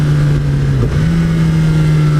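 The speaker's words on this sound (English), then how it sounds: "let's see what the bike can pull onto the highway in low mode" 2015 Kawasaki Ninja ZX-10R sport bike pulling onto a highway in low power mode, a close, steady engine drone with a brief dip in pitch as it shifts, then holding strong with some wind noise.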